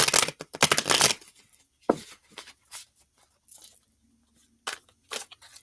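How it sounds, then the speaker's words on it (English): Tarot cards being shuffled, a dense papery riffling and shuffling burst up front, then scattered soft card taps and flicks with quiet gaps. "Let's give this a shuffle."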